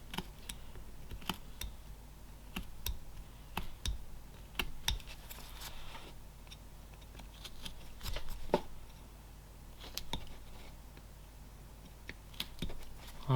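A knife carving wood for a small gnome house, a series of quiet sharp clicks and scraping cuts in irregular short bursts, close and intimate, with soft handling noises between strokes.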